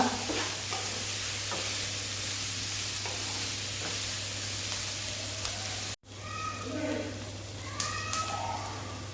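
Sliced onions fry and sizzle in a pan for chilli chicken, a steady close hiss with occasional stirring scrapes, briefly cutting out midway before the sizzle resumes.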